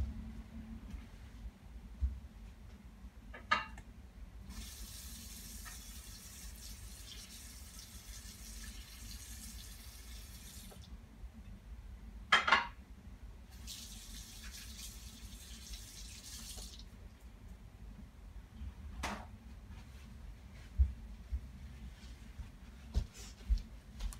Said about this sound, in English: I'm going to go put this in my water bath